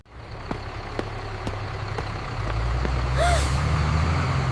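A school bus idles with a steady low engine rumble, then a sharp hiss of air brakes bursts out near the end, loud and close with no talk over it.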